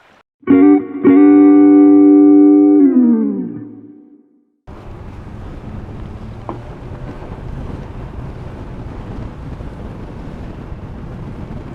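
A Starcraft 23 LP boat with a 200 engine pulls away, first a loud, steady engine drone that sinks and fades, then a constant broad rush of wind and water.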